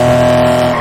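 In GTA 5, a car's engine drones loudly with a sustained tire skid, a steady, close, tonal squeal and roar lasting under a second.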